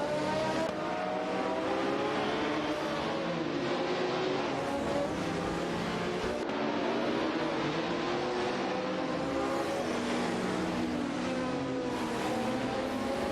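AI-driven race cars in a racing video game, including an Osella and a Renault Alpine 442B, their engines whining and shifting together in a continuous loud buzzing drone with rising and falling revs.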